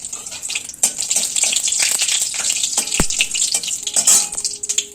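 Whole dried red chillies sizzle in hot oil in a village kitchen, a steady loud crackling hiss with scattered pops and a sharp knock of a spoon against the pan.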